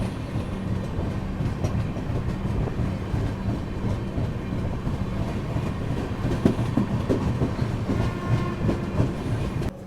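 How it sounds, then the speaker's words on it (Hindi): Pragati Express train running on rails between Pune and Lonavala in heavy rain, a steady loud rumble with a rhythmic clickety-clack of wheels over the track joints, heard continuously from on board. "अभी अपनी ट्रेन ने जस्ट घोरावाड़ी स्टेशन को पार किया है"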